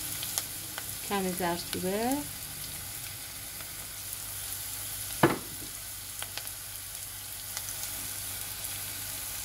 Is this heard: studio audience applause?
no